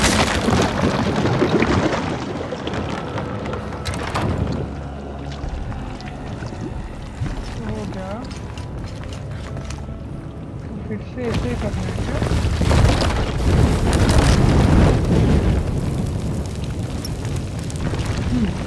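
Rushing water streams through a stone bloodletting chamber in the video game Shadow of the Tomb Raider, a steady loud wash with faint creaks and clunks, swelling louder toward the end.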